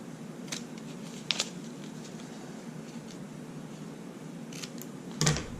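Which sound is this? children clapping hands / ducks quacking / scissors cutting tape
scissors cutting tape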